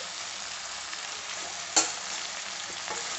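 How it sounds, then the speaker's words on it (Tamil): Broad beans sauté in oil in a pan, a quiet steady sizzle with a single brief clink of stirring midway. "அவரைக்காயை எண்ணெயிலே ஒரு 2 நிமிஷம் நல்லா வதக்கி விடலாம்"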